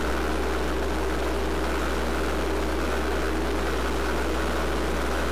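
A Midget Mustang airplane's engine drones steadily during a low pass over a runway, a constant loud hum with a deep low tone, heard from on board with no talk.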